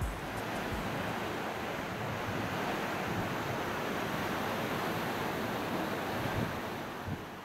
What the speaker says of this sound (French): Le vent fraîchit et bien sûr la mer se creuse.